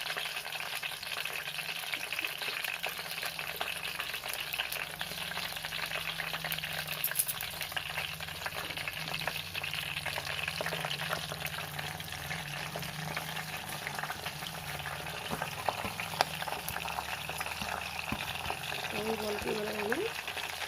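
Whole spices such as cumin and fenugreek crackle in hot oil in a village kitchen, a steady, dense sizzle running continuously for about twenty seconds with faint stirring, at moderate distance and without clear speech.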